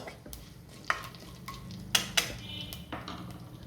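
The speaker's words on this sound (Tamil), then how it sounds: "கொஞ்சம் கடுகு சின்ன ஜீரகம் வெந்தயம் தாளிக்கிறதுக்காக போட்டுக்கலாம் வெடிக்கட்டும் நல்லா" Hot oil sizzles quietly while a few sharp pops and crackles break through at scattered moments as mustard seeds, cumin and fenugreek splutter in a pan.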